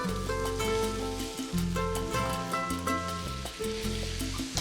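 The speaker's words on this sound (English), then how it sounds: "You can see how beautiful the mushrooms are browning." Mushrooms and leeks sizzling as they brown in a hot pan, a continuous close crackle and hiss with scattered pops and no voices.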